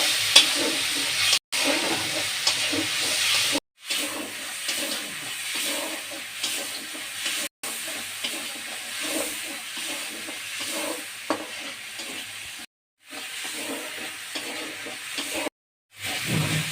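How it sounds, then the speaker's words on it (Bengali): Spices sautéing in hot oil with cumin for a spicy dhela fish bhuna make a continuous sizzle and hiss, with stirring scrapes, broken by several short silent gaps. "আমি মশলা দিয়ে কষিয়ে নেব।"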